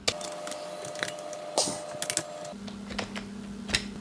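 Item details typed into Tally accounting software on a computer keyboard: irregular clicky keystrokes, close and moderately loud, with a steady background hum and no talk.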